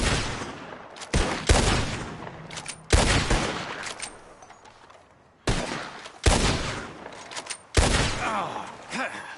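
Gunshots ring out in a Red Dead Redemption 2 shooting contest, with several loud sharp cracks spread irregularly through the clip, each trailing off into a reverberant tail.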